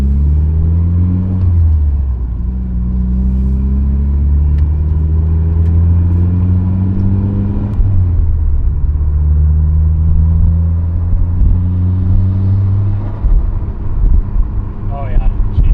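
2005 Mitsubishi Evo 8 being driven in a parking lot, its engine droning loud and close with rising and falling revs through gear changes, a clunky, rough-running car heard from inside, with people talking over it.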